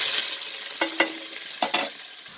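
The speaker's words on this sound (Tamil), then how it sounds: "வெந்தயம் கடுகு நல்லா பொரியட்டும்" Fenugreek, mustard seeds and onion fry in hot oil for a cod dried fish curry, a continuous close sizzle with several quick scraping strokes of a stirring spoon and no talk.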